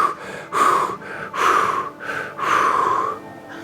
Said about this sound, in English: Deep breath, keep breathing through it.